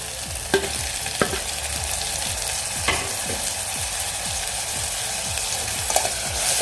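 Tomatoes and onions sauté in a pan over a low flame for black kidney bean curry, a steady close sizzle with repeated scraping strokes of a spoon stirring throughout.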